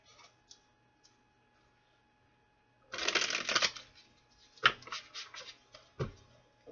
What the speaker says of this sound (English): Let me shuffle these and then I'll get all those kings out.